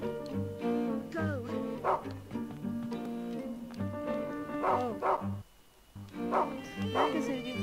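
A dog barks in the video game Rule of Rose, with repeated close barks and yips in irregular bursts over a tonal game soundtrack.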